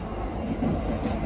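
Inside the men's toilet of the Argo Sindoro executive train, the moving train gives a steady, close rumble with a continuous rattling roar that holds even throughout.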